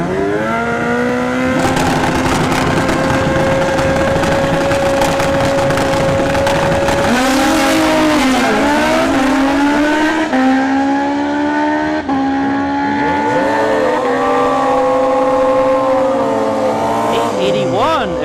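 Two motorcycles drag racing at a motorsports park, a nitrous-fed Suzuki Busa against a Kawasaki ZX14, their engines wailing loud and sustained with rising and falling pitch through gear changes, under crowd noise and an announcer's voice.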